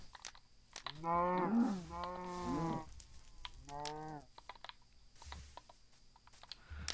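Several Minecraft cow moos, drawn-out and close, come in a few separate calls amid scattered clicking, with no talking.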